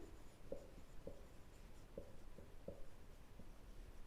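Chalk or marker tapping and scraping on a board during a Hindi geometry lesson on mean proportionals, a handful of short sharp strokes spaced irregularly over a faint room hiss, close and fairly quiet with no talking.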